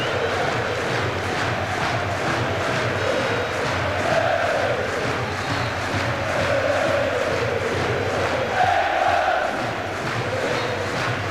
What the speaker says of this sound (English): the ground in Lens is just reverberating with the clapping of the England supporters